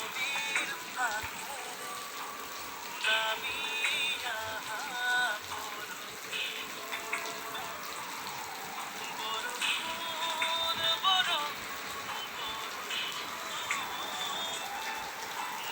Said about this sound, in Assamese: ইমান বৰষুণ আহিছে বাপৰে।